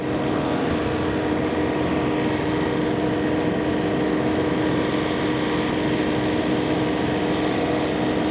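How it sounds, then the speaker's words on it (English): A 46 horsepower tractor pulls a 10-foot flexwing mower through heavy fescue and small trees, its engine a loud, steady, close drone with a constant tonal hum and no talking. "I'm gonna mow around the whole property here a couple of times maybe so that I can kind of get it opened up and have some place to turn."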